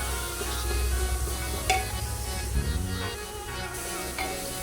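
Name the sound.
oil poured into curry, cooking in the pan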